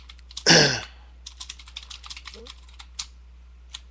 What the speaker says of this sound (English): I'm typing, sorry.